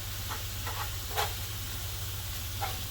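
Low, steady hiss of meat starting to cook in a pan for carnivore Texas cheesesteak eggrolls, a constant quiet sizzle with a few faint clicks and no talking.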